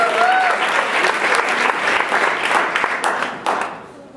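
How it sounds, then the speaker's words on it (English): Loud, close audience applause for poets at a live poetry event, full and sustained with a few sharper claps, fading toward the end. "I want you to give a big round of applause to all the poets"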